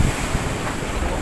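Rough sea waves at a breakwater in bad weather, a dense continuous roar of surf mixed with heavy wind buffeting the microphone, loud and close.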